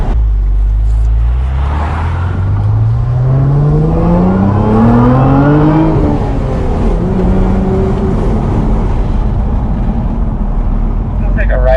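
A Lotus Emira sports car accelerates hard through the gears, engine note rising steadily then dropping at each shift, loud and close with wind buffeting and some background talk.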